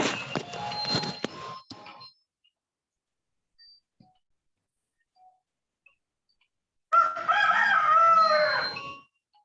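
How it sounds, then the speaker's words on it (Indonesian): A rooster crows twice, each call loud and close, separated by several seconds of near silence, with a brief burst of clucking or noise before the first crow. "Ayam siapa itu?"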